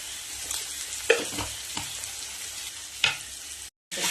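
Ground spices with chili and coriander powder sizzling in a pan while being stirred, a continuous close fry broken by a few sharp scraping strokes, ending in a brief cut-out.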